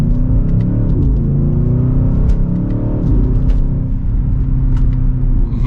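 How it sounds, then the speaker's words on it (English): A 2023 BMW XM hybrid accelerates in second gear, its exhaust a deep, steady rumble heard from inside the cabin, with the engine note climbing through shifts and rising again. "Hopefully you can hear that exhaust."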